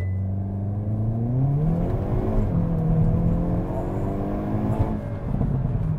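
A Hyundai Kona N launches hard, its engine note climbing steeply through the revs, dropping with a gear change and rising again, loud and close from inside the car.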